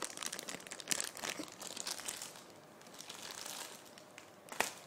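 Plastic packaging around a Smurfette figure is pulled open by hand, giving close, irregular crinkling and crackling bursts with a sharp snap near the end.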